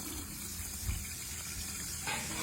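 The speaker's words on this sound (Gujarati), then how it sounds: "ખાંડ લીધી છે ને એની અંદર જો આપણે પાણી નાખી દઈએ છીએ" Water is poured onto sugar to make syrup for mohanthal, with a soft, steady trickle and gush running throughout at low volume.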